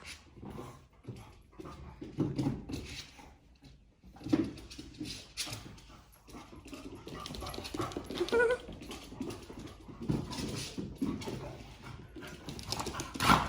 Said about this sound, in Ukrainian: Як зустрічає мене мій пес?